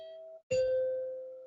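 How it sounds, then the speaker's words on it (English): The NBC chimes, kept from the archives, ring out as a clear tone, a brief gap, then a louder struck chime that sustains and slowly fades, alone and fairly close. "those are the NBC chimes that I took from the archives to keep with me and keep me company in quarantine"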